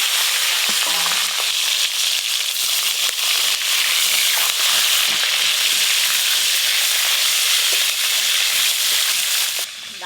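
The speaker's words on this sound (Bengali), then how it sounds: "এই মাছগুলো হালকা করে ভেজে নিয়েছি, এবার তুলে নেবো। মুড়োগুলো একবারেই ভেজে নেবো।" Hilsa fish pieces fry in oil in a pan, a loud, dense, continuous sizzle with crackling spatters throughout, close up and without talking.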